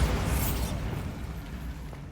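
Bombarda spell explosion in the Hogwarts Legacy video game, a loud rumbling blast at the start that fades into a low lingering roar.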